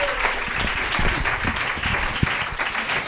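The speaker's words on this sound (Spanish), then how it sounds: "Ese aplauso para Olaya," Audience applause for Olaya at a live end-of-season show, a continuous burst of clapping from a crowd with a few louder close claps, brief and lively.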